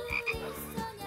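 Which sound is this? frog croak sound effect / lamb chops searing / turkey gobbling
frog croak sound effect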